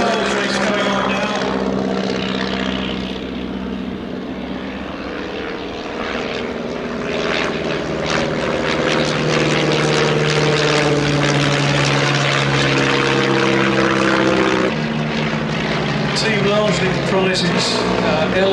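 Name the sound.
Stampe SV4 biplanes flying in formation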